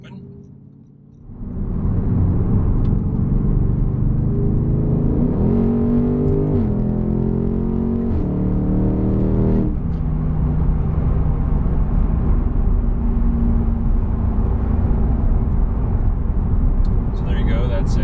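A 2021 Audi C8 RS6 Avant with an AWE SwitchPath exhaust, valves open, accelerates hard up a highway on-ramp, a loud, steady engine roar rising through the gears with shift breaks, close and continuous, with the occupant's voice over it.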